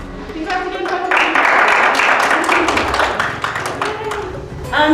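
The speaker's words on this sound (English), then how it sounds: "Jury applause." A jury at a final tribal council of an amateur Survivor-style game claps together, a dense burst of applause that swells in the middle and tapers off, with voices chattering around it.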